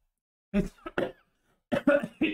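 A person coughs in two close bursts, a few harsh coughs, a short pause, then several more in quick succession.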